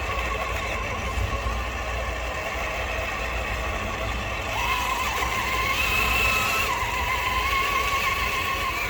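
A Traxxas TRX4 Defender RC truck crawls over rock at full throttle in first gear, giving a continuous close electric motor whine with a gear hum that shifts pitch as the load changes partway through.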